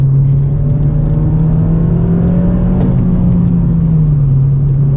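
A car engine holds a steady, droning idle-like rev that hangs and drifts slowly downward as the revs fall on their own, a continuous low hum filling the whole stretch with no voices.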